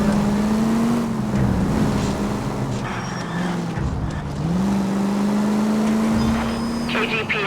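Steady car engine drone from driving in the video game L.A. Noire, holding a constant pitch with slight rises and dips, loud and continuous throughout with faint game sounds layered over it.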